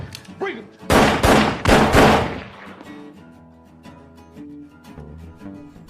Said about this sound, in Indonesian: Jack kemudian masuk kembali ke dalam rumah dan menembak Kenneth